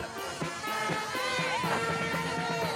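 Crowd noise in a French town during a Miss France homecoming walkabout: lively overlapping chatter and cheering voices close by, with excited calls rising over a continuous hubbub.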